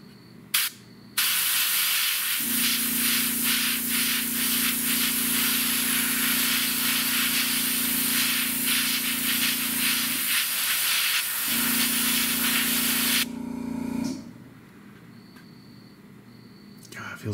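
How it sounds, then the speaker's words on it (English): A Badger Stynylrez primer sprays from an airbrush in a steady, close hiss that runs for about twelve seconds with one short break, alongside a low motor hum and a brief clatter at the start. "Feels like the sloppiest way to spray paint ever."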